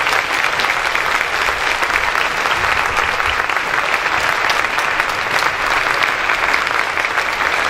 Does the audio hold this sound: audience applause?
yes